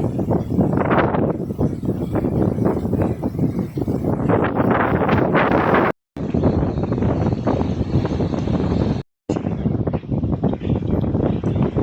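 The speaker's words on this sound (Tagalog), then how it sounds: "Malakas na ang hangin." Strong wind on the Gigantes Islands before rain buffets the microphone in loud, continuous roaring gusts, broken by two brief silent gaps.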